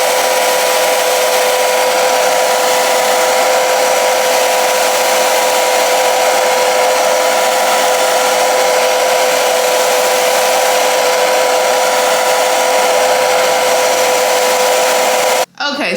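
A hair dryer blows steadily on a honey blonde lace frontal wig, a loud constant whirring hum with a strong motor tone that runs unbroken for the whole stretch before cutting off abruptly at the end.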